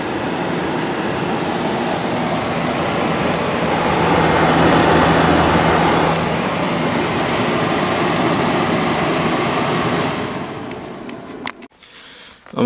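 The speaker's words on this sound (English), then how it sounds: "Compressor in this one is very quiet. Of course, it gets a little louder as it runs over time" A 5250 BTU Kenmore window air conditioner made by LG, with an LG compressor, runs with a steady, smooth broadband hum and whoosh that swells slightly midway, then cuts out near the end.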